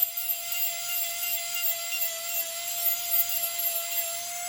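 A high-speed rotary tool whines steadily as it trims and smooths the edge of an acrylic plate, a sustained close, loud tone with a grinding hiss and no pauses.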